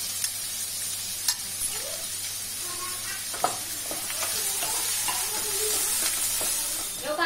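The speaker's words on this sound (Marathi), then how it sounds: "आधी कांदो ढकलतोय आणि मग त्याच्यावर कढीपत्त्याची पानं घालतोय आणि सोबत मिरचे." Onion, curry leaves and chillies sizzle in hot tempering oil for village-style pithla, a steady close frying hiss with small pops and crackles and occasional stirring clinks.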